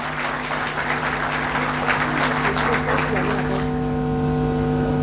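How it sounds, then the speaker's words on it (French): Audience at a formal oath-taking ceremony applauding the minister, dense continuous clapping over a steady hum, later thinning. "Je souhaite qu'on l'applaudisse."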